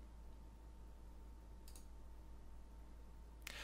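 Two faint, sharp computer mouse clicks, spaced a couple of seconds apart, sound over a low steady hum while working in Twinmotion software.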